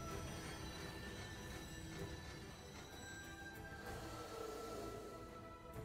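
A demonic war train summoned in Bayonetta 3 rumbles steadily with squealing wheels and a faint metallic hiss, a continuous low roar heard alone at a moderate distance.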